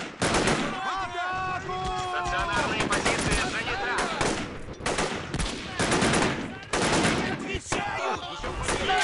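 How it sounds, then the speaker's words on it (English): Serbian artillery and gunfire in a Chechnya 2005 war video game, with dense loud bursts and booming volleys filling the scene continuously under some battlefield voices. "Serbian artillery comes in."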